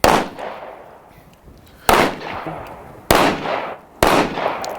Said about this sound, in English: Let's get some more shooting in and see how we do.